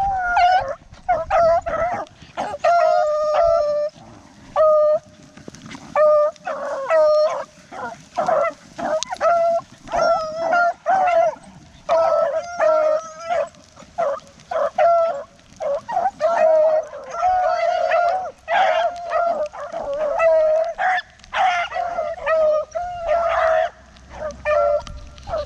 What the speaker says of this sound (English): I wanted to see the dogs coming by.